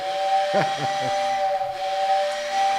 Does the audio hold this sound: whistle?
yes